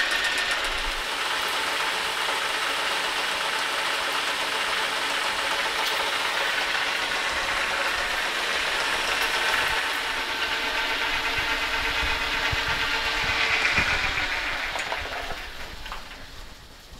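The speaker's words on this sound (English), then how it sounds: "Well, the new belt on my lathe is not slipping" A metal lathe with a new belt turns slowly while machining a thread mount back plate for a 5-inch chuck, giving a steady mechanical whirr with a faint hiss of cutting that tapers off at the end.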